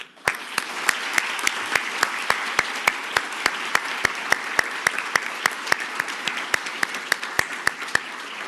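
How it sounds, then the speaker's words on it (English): Audience applause for the three finalists of a tourism ambassador speaking competition, a steady wash of clapping with sharp, regular loud claps standing out near the microphone throughout. "Please join me in giving a rousing final round of applause to our three finalists"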